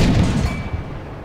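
A tank cannon fires in World of Tanks from an M3 Lee, giving a loud, booming blast at the start that decays into a rumbling tail over about a second, with no talk.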